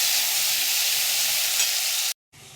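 Chopped onion and cumin seeds sizzle in hot oil, a steady loud hiss that cuts off abruptly near the end, then resumes softly after a brief silence; no voices.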